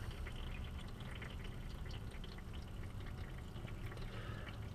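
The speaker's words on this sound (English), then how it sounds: "So just let it drain until it stops." Fluid, about three quarts, pours steadily from a vehicle into a drain pan, a faint continuous splashing trickle with no talk.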